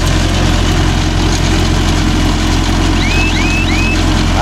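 A Mahindra Yuvo Tech Plus 585 DI 4WD tractor engine runs loud and steady nearby, a constant low diesel throb, with faint chirps near the end.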